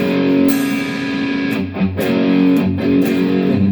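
Overdriven electric guitar through a Valeton GP-100 Green Overdrive effect plays a few crunchy chords and palm-muted notes, loud and up close, with brief gaps between strums.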